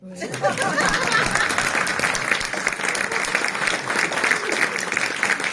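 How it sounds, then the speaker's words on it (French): A lively evening-show audience claps energetically for the host, dense sustained applause with scattered laughter and chatter mixed in, loud and close throughout. "le public est en délire, rit aux blagues du présentateur de la soirée, se met à l'applaudir énergiquement"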